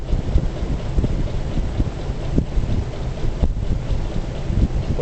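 A heavy cast iron motor fan running on its high setting gives a steady, loud, broadband rush of air with a constant low rumble and no pauses.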